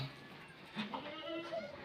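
A goat bleating faintly in a few brief calls at a small farm with nursing kids around, under a person's steady quiet talk.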